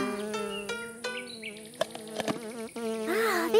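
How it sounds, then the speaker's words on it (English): Cartoon bee buzzing in a preschool animated series, a wavering high drone that rises and dips over soft background music, close and fairly loud, with no talk. "Oh, that's a bee!"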